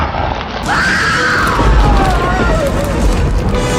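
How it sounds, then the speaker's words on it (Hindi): A woman's drawn-out scream rises and fades over a dense wash of heavy rain, with low rumbling underneath. "उस औरत की चीख बारिश की आवाज में दब कर रह गई।"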